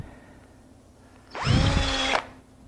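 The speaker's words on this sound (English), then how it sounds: "all I'm doing is reaching down inside my mortise and drilling my center point" A power drill with a 1/8 inch brad point bit bores a center point inside a wood mortise, giving one short, close whining burst under a second long, then quiet room tone.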